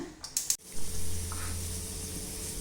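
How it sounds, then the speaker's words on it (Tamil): A brief sharp hiss bursts out as a pressure cooker whistles while cooking mint rice, followed by a sustained steamy sputtering and low rumble that continues steadily, close by. "ஒரு விசில் வந்துடுச்சு, ஆஃப் பண்ணிவிட்டு"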